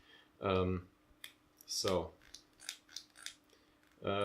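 Clicks from the zoom ring of a Hanimex 35-70mm f/2.5-3.5 macro zoom lens: a few small, close mechanical ticks spaced between short bursts of speech.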